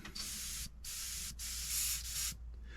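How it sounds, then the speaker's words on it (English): An airbrush sprays red lacquer paint over primer in steady hissing bursts, with brief gaps between passes, close and fairly quiet. "But I'll be airbrushing the red on."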